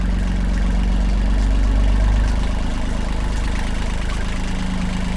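The diesel engine of a Catalina 30 sailboat runs steadily after starting, a loud, close, low rumbling drone with an even rhythmic chug and no voices.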